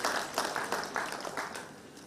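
A conference audience claps continuously in a hall, a steady dense patter of many hands heard close and moderately loud, with no voices over it.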